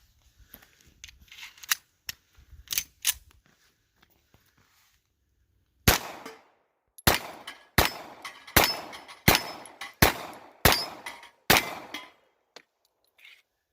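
A Remington R1 Commander 1911 pistol in .45 ACP fires brass-cased rounds outdoors: a few scattered shots, a pause, then a steady string of about eight loud, sharp reports at roughly even intervals.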